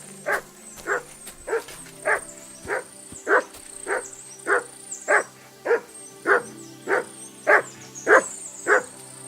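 A dog barks steadily in Kingdom Come: Deliverance II, about fifteen evenly spaced barks, fairly close and clear, with no talking over them.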